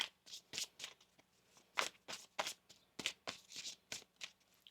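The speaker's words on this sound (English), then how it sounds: "One more shuffle." A deck of tarot cards being shuffled by hand, a series of quick riffling bursts, about a dozen crisp flutters in an uneven rhythm, close and fairly soft, with no talking.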